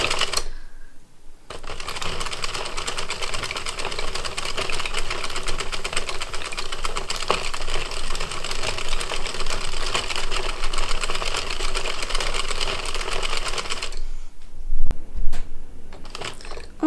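Knitting machine working a toy rabbit, its carriage making a steady rapid clattering rattle for about twelve seconds, close and loud, then stopping.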